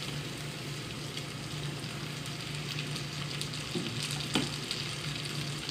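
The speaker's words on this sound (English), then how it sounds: "I'm gonna throw in my onions and my peppers now, so that they can kind of saute up" Onions and peppers sauté in bacon fat with a soft, steady sizzle, close by and fairly quiet, broken by a couple of faint clicks.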